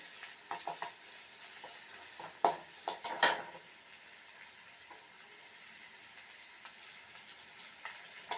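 Sliced onions fry in oil in a pan for an egg and broad bean stir-fry, giving a quiet steady sizzle broken by a few sharp scrapes and clinks as they are stirred.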